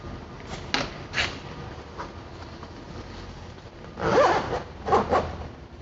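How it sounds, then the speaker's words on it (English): A zipper being opened on a Bestop Supertop NX soft top on a Jeep Wrangler JKU, heard as a few short rasping pulls followed by two louder, longer zips near the end, close up with no talking. "we're going to open this zipper up to right about here"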